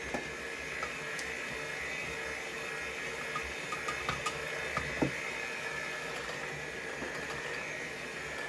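An electric mixer beats egg whites with a pinch of salt for a whoopie pie filling, giving a steady, continuous close whirring drone that holds level throughout with no talking.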